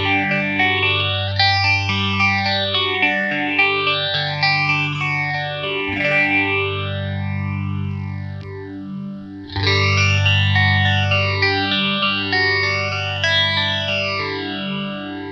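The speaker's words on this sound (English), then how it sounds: "I really love 8 and 10 stage phasing." Guitar played through a PastFx Rotary Phaser, an original EHX clone, in 10-stage phasing mode, its sustained chords swept by deep repeating notches that rise and fall steadily, loud and close with no talking.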